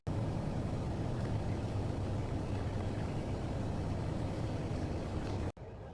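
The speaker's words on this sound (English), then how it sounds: "Let's hear that engine." Old Mack truck big rig engine running, a steady low drone held at an even level for several seconds before cutting off abruptly near the end, with a quieter rumble continuing afterward.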